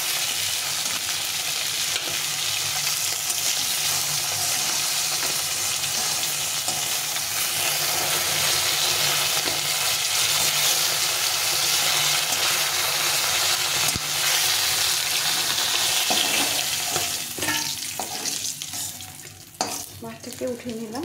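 A catla fish head fries in hot oil with a steady, close sizzle and the scrape of stirring throughout; near the end the sizzle eases and a few utensil clinks come through.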